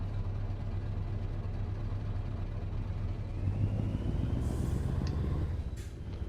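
The engine of a Scania 730 V8 truck in the Euro Truck driving game produces a steady, deep low rumble that drones continuously, fairly quiet and with no voices.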